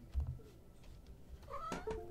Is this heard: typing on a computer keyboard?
no